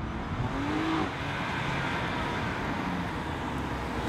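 A BMW M2 Competition with a Drivelogic gearbox, heard from inside as it drives in efficient mode: a steady low engine drone and road roar, and one brief rise in revs early on. No one speaks.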